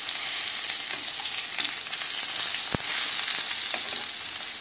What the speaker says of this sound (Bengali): বেগুন ভাজা